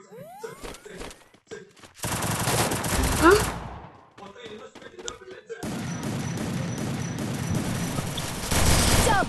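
An M10 weapon fires in a video game, delivering rapid automatic bursts in several loud, sustained volleys separated by brief pauses and clicks.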